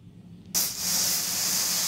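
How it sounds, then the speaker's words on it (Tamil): Thickened milk boils in a pan on the stove, breaking into a sudden steady hiss that continues loud and close, with no voices. "பால் நல்லா கொதிச்சிருச்சுங்க"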